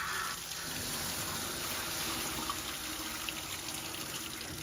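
Running water rinsing a Coco poodle mix during grooming, a steady hissing stream splashing continuously at close range, with no talking.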